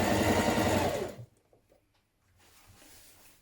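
Sewing machine running steadily as it stitches a seam with a 1.5 cm allowance on a children's jumpsuit, a loud continuous whir for about a second before cutting off to quiet room noise.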